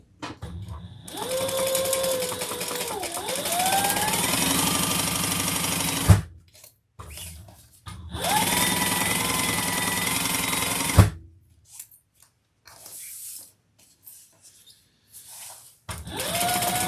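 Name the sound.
sewing machine basting fabric for a bag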